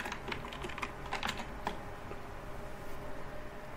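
Rapid tapping on a computer keyboard while logging into a Raspberry Pi, a quick close burst of clicking keys that then fades into quiet room hiss.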